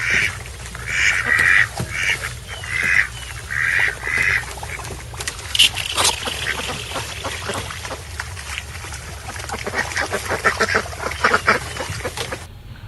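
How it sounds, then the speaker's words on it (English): Ducks by the water quack loudly in a rapid series of nasal calls, several close together near the start, then scattered honking quacks and outdoor bustle continuing throughout. "You can hear the ducks."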